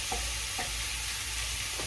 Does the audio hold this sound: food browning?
yes